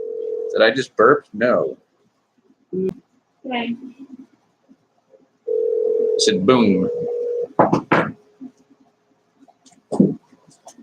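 Steady telephone dial tone heard twice while a phone call is being placed, each stretch lasting around a second or more, close and clear, broken up by casual talk from a man before and between the tones.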